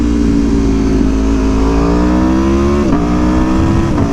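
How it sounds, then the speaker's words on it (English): Aprilia Tuono V4 1100 RR sport bike, a 2017 V4 engine, burbling and crackling under engine braking as the throttle rolls off, a loud, steady close-up drone with a falling pitch and a brief dip near the end. "The reduced engine braking also sounds really cool when you roll off the gas."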